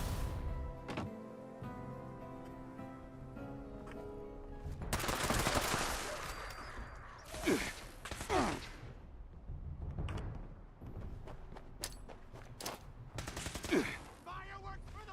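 Gunfire in the online game Fallout 76, with bursts of rapid shots and sharp cracks spread through a busy in-game soundscape of mechanisms and effects.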